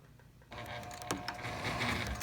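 A heavy-duty home sewing machine, fitted with a titanium-coated needle and white thread, stitches through four layers of leather, giving a steady mechanical whir with a few sharper knocks, faint and continuous after a quiet start.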